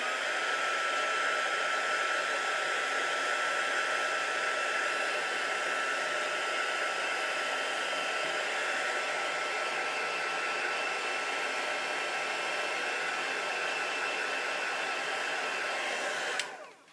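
A heat tool for heat embossing blows hot air in a steady, loud broadband whoosh that runs unbroken for about sixteen seconds, then cuts off abruptly at the end.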